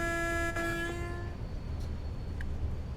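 A train in the Train Sim World 6 game, running on the West Coast Main Line between Crewe and Preston, sounds a steady horn over a constant low rumble, then the horn stops and the rolling noise continues alone.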